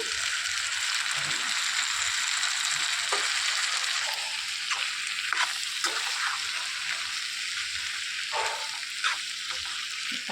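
Chopped tomatoes frying in a pan of ginger-garlic paste for an egg tomato curry, a steady broad sizzle running throughout with a few soft clinks and scrapes, close and moderately loud, no talk.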